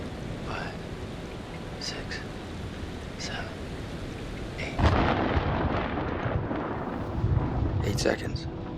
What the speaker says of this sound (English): The storm's 8 miles away.